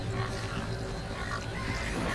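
Cows in Resident Evil 4 give low, continuous lowing and grunting that sounds close and fills the short stretch without a break.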